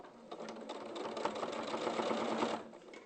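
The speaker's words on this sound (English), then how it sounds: "So I'm just sewing up the other side now." A sewing machine running steadily as it stitches up the side of a piece of fabric, a fast close mechanical whirring and tapping that stops abruptly near the end.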